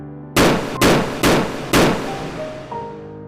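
Four loud gunshots in a narrated story crack out one after another at roughly half-second intervals, each with a long ringing decay into the surrounding space, followed by a faint lingering ring.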